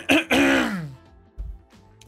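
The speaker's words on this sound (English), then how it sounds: "I'm going to cough." A single harsh throat-clearing cough up close, followed by a quieter low grunt and a brief rustle.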